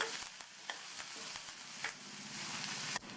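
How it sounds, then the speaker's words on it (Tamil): Chopped onions and curry leaves sautéing in a pan: a steady soft sizzle with sharp scraping clicks of a spoon stirring at irregular intervals, close and fairly quiet, no talking. "இது கூட கறிவேப்பிலை சேர்த்து இந்த வெங்காயம் அதனுடைய கலர் லைட்டாக மாறுற அளவுக்கு வதக்கிக்கணும்."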